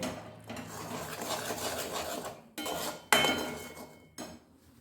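A coriander-leaf pickle is stirred in a pan, a spoon scraping and clattering against the metal in steady strokes, with a few louder clinks and short pauses, close and with no talking.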